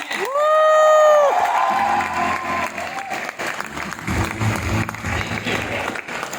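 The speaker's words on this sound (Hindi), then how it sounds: "एक और बार जोरदार तालियां हो जाए सभी के लिए।" Audience applause at a growth summit in India: a loud cheer with a high whoop opens, then sustained clapping and crowd cheering fill the hall at full volume.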